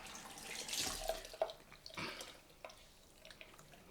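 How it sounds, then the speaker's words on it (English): Tap water runs into a sink while hands are wetted after a shave, a faint, uneven splashing that swells and then fades. "Let's just wet my hands."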